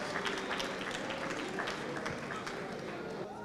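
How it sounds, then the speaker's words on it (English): Faint, steady applause rolls through an audience at a formal ceremony honoring a prince, a dense wash of clapping that lasts the whole stretch. "A round of applause for Prince Adewole Adebayo Majesty."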